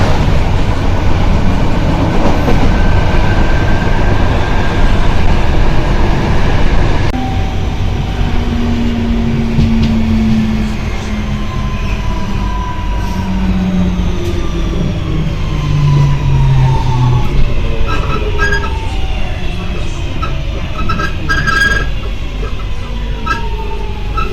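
A Birmingham train rumbles steadily along the rails, with a constant loud roar, rising and falling whines, and faint rhythmic clatter throughout.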